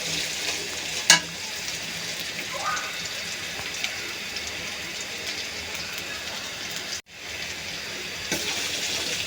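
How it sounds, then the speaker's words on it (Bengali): A spice paste with cumin fries in a pan, giving a steady, fairly quiet sizzle that runs the whole time, with one brief clatter near the start and a short dropout later on. "পেস্ট একটু ভেজে নিচ্ছি।"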